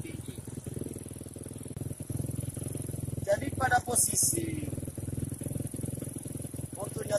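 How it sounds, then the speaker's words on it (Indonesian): A moped (underbone motorcycle) engine runs at idle as its carburetor idle screw is adjusted, a steady close-up putter that rises in pitch partway through, with someone talking over it. "Jadi kalau saya putar pada posisi ini, otomatis suara mesin akan menjadi lebih tinggi."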